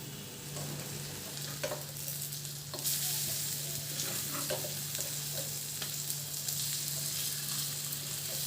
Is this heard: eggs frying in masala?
yes